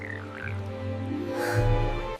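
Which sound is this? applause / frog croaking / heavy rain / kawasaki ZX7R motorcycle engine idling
frog croaking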